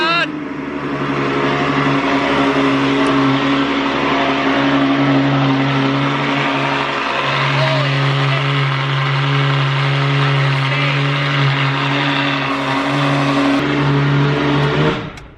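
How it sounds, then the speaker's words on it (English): A Mercedes engine in sport mode fires up loud and runs with a strong steady drone and some revving, close by, with people talking over it. "Apparently, if I put it in sport mode, it's gonna start up in a louder mode."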